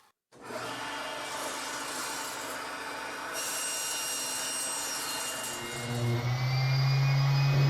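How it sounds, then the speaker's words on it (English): A power sander runs steadily over glued wooden boards for a mobile router table, flattening the surface with a continuous, close, loud whir. The pitch shifts and rises near the end. "now I have to just sand them flat, so and cut the ends as well"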